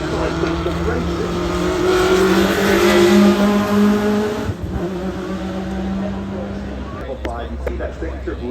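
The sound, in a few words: Chevy Chevelle race car engine at Goodwood Festival of Speed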